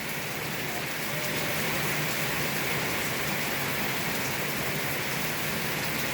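Steady, dense rain pouring down in Caramutan, Villasis, Pangasinan, Philippines, a continuous loud hiss with the patter of drops on a surface and no voices.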